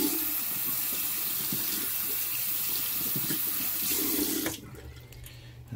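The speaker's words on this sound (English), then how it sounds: "So now, I'll just go ahead and give it a rinse in water." Tap water runs steadily in a sink as a resin 3D print is rinsed, a continuous close splashing hiss that cuts off abruptly near the end.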